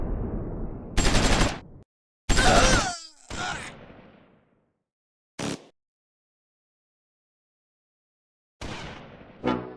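Gunfire in the wartime strategy game Close Combat 4, set in the Battle of the Bulge, with loud bursts of machine-gun rattle and sharper isolated shots separated by stretches of silence.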